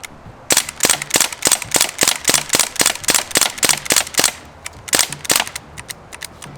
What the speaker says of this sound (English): We're gonna go ahead and dump this mag in.